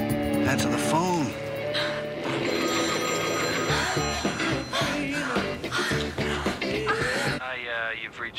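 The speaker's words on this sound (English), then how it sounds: "Answer the phone." A telephone ringing in a detective agency office, repeated bell trills running under people talking and a brief laugh.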